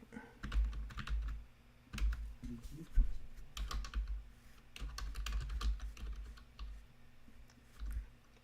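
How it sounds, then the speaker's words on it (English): Steady keyboard typing in close-up, quick bursts of key clicks with brief pauses between them, no voices. "Sound like I'm typing a police report."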